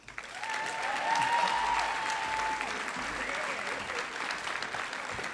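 Sustained applause from the crowd at the 37th annual City of Destiny Awards ceremony, a full, even roar of clapping that rises quickly and holds steady throughout, with a faint tone briefly audible early on.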